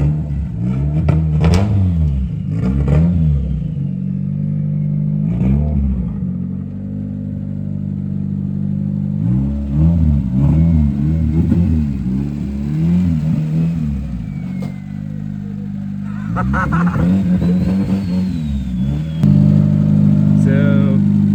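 A Mazda RX7 fitted with a built K24 engine, turbocharged and on a Link ECU, idles and revs in repeated bursts close by, with stretches of steady running between the throttle blips.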